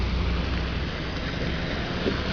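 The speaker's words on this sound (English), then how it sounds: "And hopefully this rain will stop." Steady rain hisses around a car on the road in Columbus, Ohio, a dense, even wash of noise that stays loud from start to finish with no voices.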